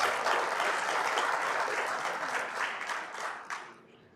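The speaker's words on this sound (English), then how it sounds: "Shall we do a round of applause for her?" An audience applauds at a live sporting event opening in Accra, a dense wash of many hands clapping at once that stays full for several seconds, then thins and fades out near the end.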